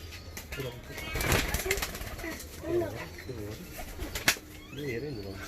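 Özbek ornamental pigeons in their loft in Adıyaman coo and flutter their wings close by, with bursts of flapping and soft calls while people talk over them.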